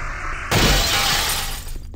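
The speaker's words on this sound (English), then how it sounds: "Good, I broke the glass." Glass shatters loudly in the video game Jedi Outcast, a sudden crash midway that breaks into a spray of tinkling shards fading over about a second.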